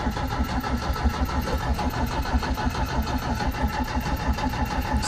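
A 1972 Toyota Corolla TE28 wagon engine cranks with a steady, rapid chugging rhythm for several seconds, loud and close, the starter churning on with little fuel reaching the front and no voices over it.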